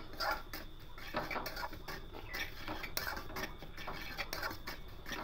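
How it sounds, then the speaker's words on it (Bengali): Semolina is dry-roasted in a wok, with a utensil repeatedly scraping and clinking against the pan in quick irregular strokes, close and fairly quiet, with no talking. "এবার সুজিটা দিয়ে দেব, দিয়ে শুকনো খোলায় সুজিটা একটু ঝরঝরে করে একটু ভেজে নেব"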